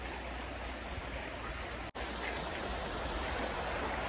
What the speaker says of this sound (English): This is the Cair River.